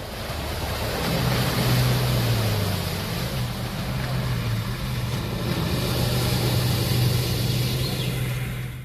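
An SMB amphibious vehicle moves through floodwater in Punjab, its engine droning steadily under broad wash and wind noise.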